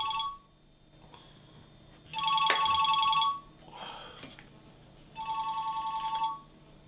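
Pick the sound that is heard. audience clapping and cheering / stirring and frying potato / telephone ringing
telephone ringing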